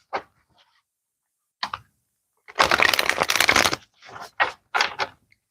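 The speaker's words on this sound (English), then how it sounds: "Let's get one more shuffle in there." A new, stiff deck of cards is shuffled in short, crisp bursts, with a few quick riffles and then a longer rattling shuffle, close and clear with no talking.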